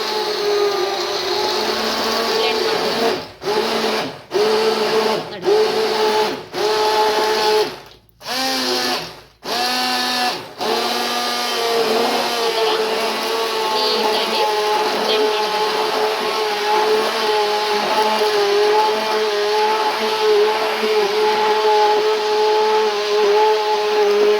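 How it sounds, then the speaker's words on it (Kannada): An electric blender whirs as it blends watermelon into juice, starting with several short stop-and-start pulses, then settling into a loud, steady, whining motor drone. "ಈಗ ನೋಡಿ ಅದನ್ನು ನೀಟಾಗಿ ಬ್ಲೆಂಡರಲ್ಲಿ ಬ್ಲೆಂಡ್ ಮಾಡಬೇಕು ಇಷ್ಟೇ ನೀಟಾಗಿ"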